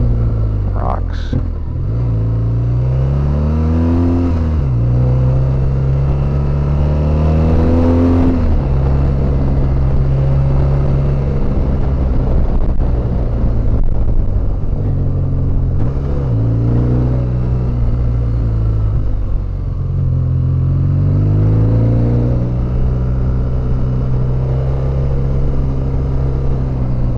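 A BMW R1200GS Adventure motorcycle engine rumbles and rises in pitch several times as it accelerates along a dirt road with rocky, dirty corners, steady and close throughout with wind noise.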